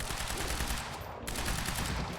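Rapid, continuous gunfire from the video game Quantum Break, a dense close-up barrage that fills the whole stretch with little break.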